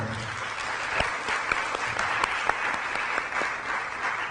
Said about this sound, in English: Let's give all of them a nice round of applause.